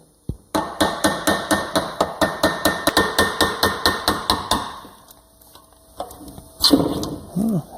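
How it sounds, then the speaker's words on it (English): A small screwdriver is tapped repeatedly with a hammer to free a stuck part held in a vise, giving a quick, steady series of about twenty sharp metallic knocks that taper off, followed by a scrape and rattle. "I'm just going to try and get behind it with a small screwdriver and give it a light tap and see if I can break it free"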